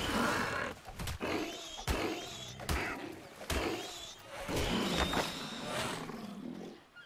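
A bird creature in Ark Survival Ascended calls out in loud, harsh, roar-like bursts, repeated several times at uneven intervals with no speech over them.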